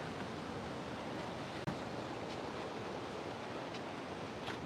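Ocean surf washes onto the shore of Tenerife in a continuous broadband rush with wind buffeting the microphone, one brief dropout partway through; no voices.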